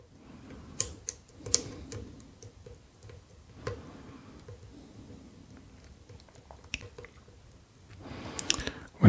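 Small metallic ticks and clicks from a pick working the pins of an IKON WSW lock, scattered and uneven, close and fairly quiet, with a denser cluster of clicks near the end.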